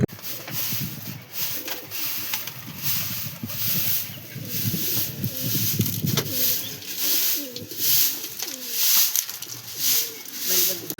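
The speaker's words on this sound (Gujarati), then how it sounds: "કબૂતર આપણે અંદર આવ્યું હતું, વયું ગયું છે" Pigeons coo repeatedly inside a house being cleaned, soft rolling calls recurring throughout against a noisy background with rustling and occasional knocks.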